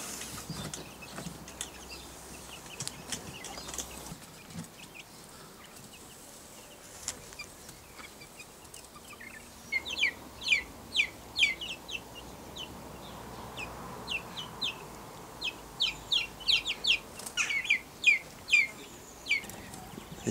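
Chicks in a temporary chick box in a back garden run on a lawn cheep and cluck in quick, close bursts, sparse at first and then busier and louder in the second half.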